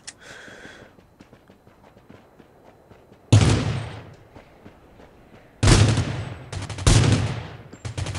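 Bursts of gunfire ring out in the battle royale game Rules of Survival, two loud volleys followed by a third rapid string of shots, separated by quieter stretches of game ambience.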